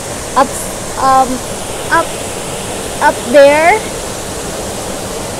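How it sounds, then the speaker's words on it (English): A waterfall about seven feet high at Bukal Falls in Majayjay, Laguna, Philippines, rushes as a steady broadband roar throughout, while a few short bursts of voices speak over it. "This is actually the first fall. I mean, the first waterfall, and it's like 7 feet"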